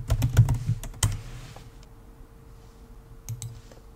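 Fingers tap out a password on a computer keyboard in a quick burst of close, crisp clicks, then pause briefly before two or three final keystrokes in a quiet room.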